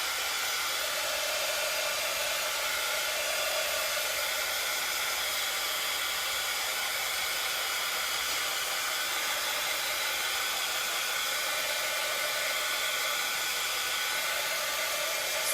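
A hair dryer blows steadily on a craft sign project, a loud continuous airy whoosh that holds unchanged throughout with no voices.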